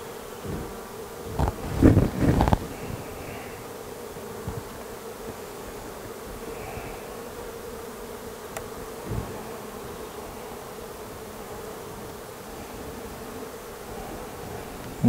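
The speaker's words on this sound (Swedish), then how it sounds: "Här var det mycket bi." Honeybees hum steadily inside an open hive during a spring inspection, a dense, continuous buzz with a few louder, closer swells and scrapes near the start.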